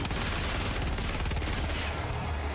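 A big gun fires in Helldivers 2 against automaton robots in bad weather, a dense, continuous roar of rapid booming shots filling the whole moment without pause.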